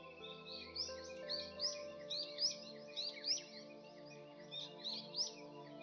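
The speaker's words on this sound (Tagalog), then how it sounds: "at ng huni ng ibon" Small birds chirp and twitter in repeated short bursts over a faint steady drone, quiet and fairly close, with no voices.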